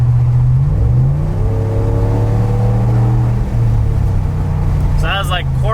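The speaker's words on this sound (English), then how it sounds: "you guys can kind of hear what the exhaust sounds like from the inside with the windows about halfway down" A straight-piped 2019 Ram 1500's deep exhaust drones from inside the cab with windows halfway down, its pitch rising smoothly as the engine revs at quarter throttle, then a brief voice at the end.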